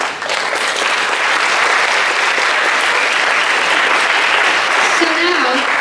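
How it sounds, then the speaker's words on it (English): A large audience at a competition gives a loud, sustained round of applause for the adjudicator, the dense clapping holding evenly throughout with some voices mixed in. "Shall we give our adjudicator a big round of applause for their valuable presence?"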